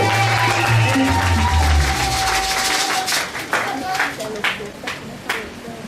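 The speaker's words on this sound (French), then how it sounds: "Applaudissez très fort pour la puissance de Dieu." Congregation clapping at an evangelical church conference, a dense wash of hands that starts over loud music and continues with sharper scattered claps as the music drops away.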